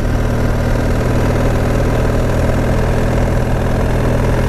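Close, steady motorcycle engine rumble at low revs, chugging evenly at about 37 km/h in heavy fog on the Pan-American Highway in Peru, without rising or falling.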